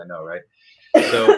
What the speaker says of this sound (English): bless you, woman, with that cough